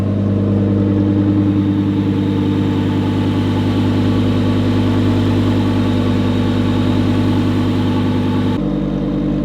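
Audi R8 with a straight pipe exhaust and new supercharger idling on first start, a loud, steady, throbbing rumble held nearly unchanged before cutting to a lower tone at the very end.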